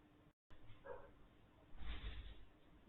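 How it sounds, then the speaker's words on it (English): Dogs bark and yip in short, agitated bursts, somewhat distant and moderately loud against a quiet indoor background. "My dogs are freaking out a little bit."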